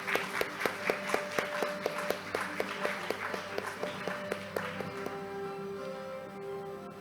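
An audience claps in a steady rhythm at the opening ceremony of the 2023 Korean Accounting Association summer international conference, with music playing underneath before the clapping gives way to sustained tones.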